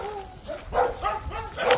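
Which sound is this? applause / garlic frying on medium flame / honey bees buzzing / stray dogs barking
stray dogs barking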